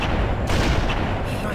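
Gunfire from Halo: Combat Evolved played on Legendary difficulty, a dense, loud stretch of weapon blasts with booming low-end thumps running continuously through the short stretch.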